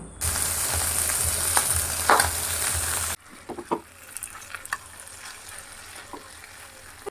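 Nigella seeds and green chilies tempered in hot oil for a thin tangra fish curry, a loud, close, steady hiss for about three seconds, then a quieter stretch of scattered pops and crackles.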